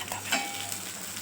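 Bombay duck (loitta fish) jhuro frying and being stirred in a wok, a steady close hiss and sizzle with a brief louder burst early on and no talking.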